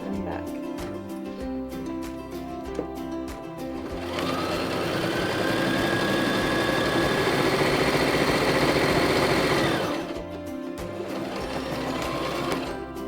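A sewing machine stitches fabric for puffy heart bunting, running in a fast steady whir through the middle section with quieter spells and handling sounds at either end.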